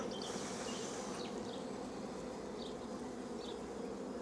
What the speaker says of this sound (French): Alors tu vois, les abeilles qui sont là,